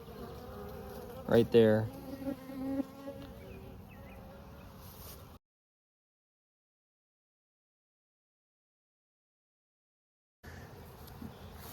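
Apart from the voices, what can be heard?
honey bees buzzing at hive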